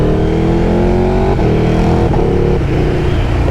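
KTM 1290 Super Duke R motorcycle engine rumbling loudly and steadily from the rider's position, with a deep throbbing drone and slight rises in revs as it pulls along.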